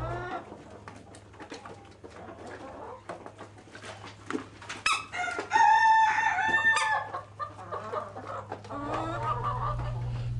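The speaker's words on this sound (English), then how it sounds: "fresh organic eggs gathered each day from a small flock of hens that live beside a donkey's stall" Hens cluck and chatter close by in a barn, with a rooster-like call rising in the middle over a low steady hum.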